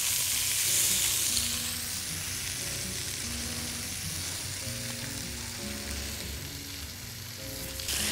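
Zucchini and onion fry in a pan until caramelized, giving a steady, dense sizzle that holds at a constant level for the whole stretch, close and continuous with no voices.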